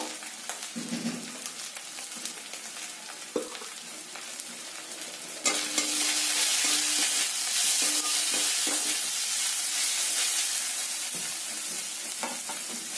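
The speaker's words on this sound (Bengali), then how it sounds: "সব মশলাগুলো আমার ভাজা হয়ে গেছে" Coriander powder, cumin powder and turmeric fry with onion, ginger and garlic in a pan. A soft sizzle with occasional stirring scrapes swells into a louder, continuous hiss partway through. No one speaks.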